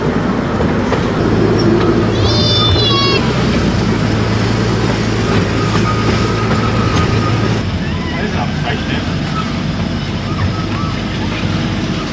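A small amusement park ride train at Pleasurewood Hills rumbles along with clattering wheels and a brief high squeal early on, with people's voices mixed into the noisy background.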